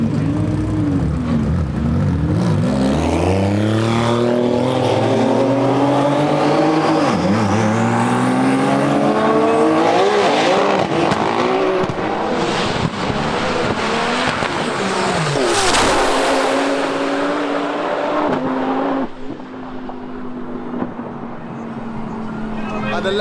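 A Lamborghini race car at the TX2K 2024 drag race accelerates hard, its engine note climbing through rising, shifting tones as it roars past. A voice speaks over the engine.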